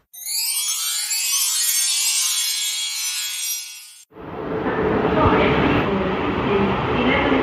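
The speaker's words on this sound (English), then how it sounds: "I'm at Woking Station." At Woking Station, a high metallic whine fills the first four seconds, then cuts out sharply and gives way to a broad, loud rumble of a train passing close by.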